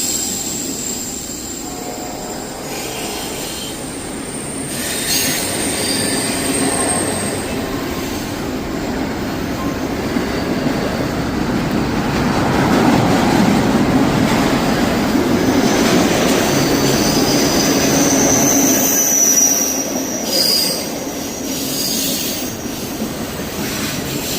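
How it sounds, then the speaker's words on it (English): A long intermodal freight train rolls past, loud and close, with a continuous rumble of wheels on track and intermittent metallic squeals. "Jeez, that's loud. It is an intermodal."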